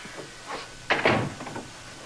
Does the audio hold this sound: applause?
no